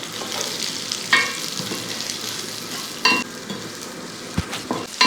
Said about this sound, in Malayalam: സവാളയും കൂടെ ഇട്ടതിന് ശേഷം ഒന്ന് ഇളക്കി